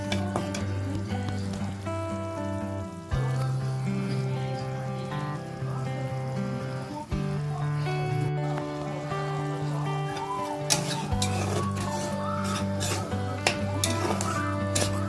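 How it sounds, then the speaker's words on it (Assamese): Jackfruit seeds fry in a pan over low heat, a soft steady sizzle beneath a constant hum. Scrapes and clinks of stirring break in now and then, louder near the end. "কম জুইত অলপমান ভাজিব লাগিব"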